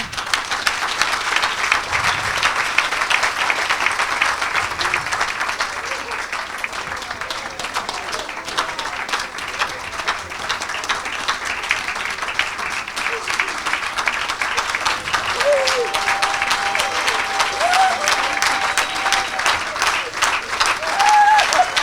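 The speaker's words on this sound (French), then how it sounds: "Quelqu'un acclame le Seigneur." A church congregation applauds and cheers for the Lord in a long, loud, steady wash of clapping from a large crowd, with a voice rising faintly above it at times.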